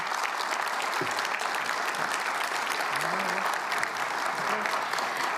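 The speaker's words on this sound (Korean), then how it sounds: "다시 한번 큰 박수 부탁드리겠습니다." A large audience at a Korean government town-hall forum gives sustained, even applause, a continuous wash of clapping with no talk over it.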